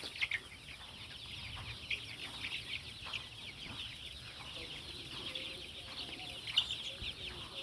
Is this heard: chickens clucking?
yes